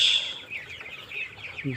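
Month-old, fully vaccinated Kazi tiger chickens on a poultry farm in Anowara, Chattogram, keep up a dense, continuous chorus of close, high peeping and clucking, with a brief lower cluck near the end.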